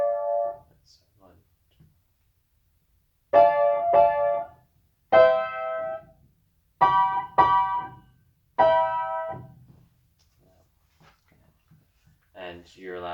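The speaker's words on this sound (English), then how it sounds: "I'm gonna play just a 2-bar phrase" A short two-bar phrase in 4/4 is played for a music exam's aural test: clusters of clear, ringing pitched notes arrive in separate groups with silent gaps, at moderate volume and with no talking.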